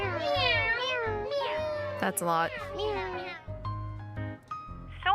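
Cartoonish cats meow repeatedly in the Love and Deepspace video game, several rising and falling cries close up, with a person talking over and between them.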